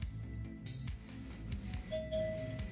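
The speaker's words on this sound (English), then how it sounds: "someone's ringing the doorbell" A doorbell chime rings out partway through, a clear tonal ding sustaining over a steady background of music during a tabletop role-playing game session.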